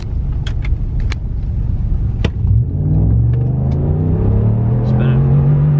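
A tuned Hemi-powered Ram pickup truck accelerating hard at full throttle, its engine rumble climbing steadily in pitch as it revs up, loud and close from inside the cab, with a few brief noises over the top.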